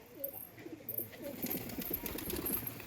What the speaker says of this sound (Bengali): এখন এই মেয়েকে প্রচুর পায়রা আসছে